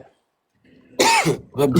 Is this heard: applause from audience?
no